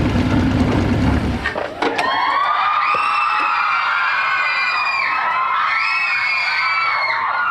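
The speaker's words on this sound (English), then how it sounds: "it's time for the audience to scream" A TV sitcom studio audience erupts in loud, sustained screaming and cheering after a short burst of noise, the high-pitched crowd shrieks rising and swelling for several seconds.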